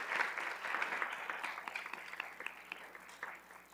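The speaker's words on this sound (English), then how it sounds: "all of you in the audience as well deserve a well-deserved round of applause" The audience at a college radiologic technology pinning ceremony claps in a soft, fairly distant round of applause that carries on without a break and fades slightly near the end.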